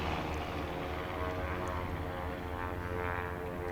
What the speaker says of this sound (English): Tobias Birch now on the line in that Cub type